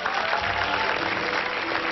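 An audience applauding at an award ceremony in Lithuania: a dense, steady wash of many hands clapping together, loud and continuous throughout, with no clear voices.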